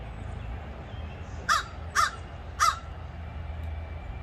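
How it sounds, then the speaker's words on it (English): A raven perched up in a tree near lakes on a road trip gives three harsh squawking caws at even intervals, moderately distant over a low outdoor rumble. "there's a raven up there squawking"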